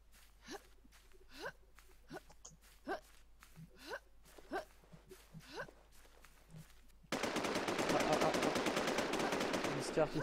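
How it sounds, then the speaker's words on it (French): Rapid gunshots ring out one after another in a battle royale video game, sharp cracks repeating at an irregular pace across the first seconds before a denser, louder burst of mixed game noise takes over. "Qui tire, il vient de tuer un mec."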